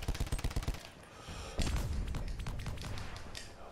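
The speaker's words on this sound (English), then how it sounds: "He's shooting at me." Gunfire in Call of Duty Blackout, opening with a rapid rhythmic burst of automatic shots, then after a short pause a heavier, continuous barrage of loud overlapping shots and thuds, no talking.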